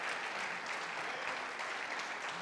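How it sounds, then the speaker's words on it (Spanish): A church congregation claps continuously throughout, a steady wash of applause from a crowd at a moderate distance. "Dele un aplauso a Cristo."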